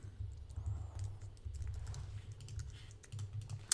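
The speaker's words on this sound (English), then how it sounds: "It's been a long day of typing." Fast, uneven clicking of a computer keyboard being typed on, close by and fairly quiet, with short pauses between bursts and no talking.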